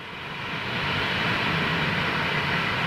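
A leased Boeing 737 passes with a steady, loud roar of jet engines that swells at the start and then holds as a broad, continuous rumble, with no voices.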